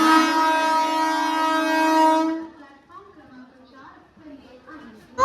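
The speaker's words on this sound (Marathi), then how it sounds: "आमची ट्रेन आलेली आहे." A passenger train arriving at an Indian railway station sounds one loud, sustained horn blast of about two seconds, and quieter, murmuring station noise follows.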